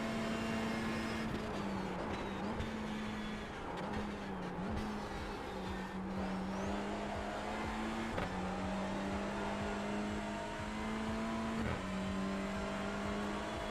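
Race touring car engine on the Daytona road course in iRacing, a steady high drone that climbs in pitch and drops several times at regular intervals as gears shift up, with no voices.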